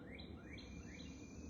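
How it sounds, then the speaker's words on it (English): Outdoor birds on a country porch chirp in short repeated rising tweets, about three clear calls over steady low ambient background with faint insect hum and no talking. "Love hearing the birds."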